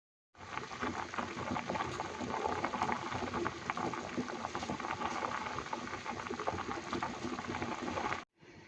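Macaroni pasta boils in a pot of water, a steady, bubbling roil that holds at an even level for several seconds and then cuts off abruptly.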